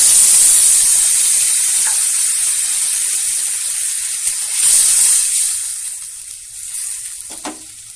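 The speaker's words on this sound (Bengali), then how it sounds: "এবারে এরকম একটা কাপে 1 কাপ জল দিয়ে দেবো।" Water poured into a pan of small mourala fish curry sets off a loud, steady sizzle with hissing steam, easing over several seconds with a few scraping stirs near the end.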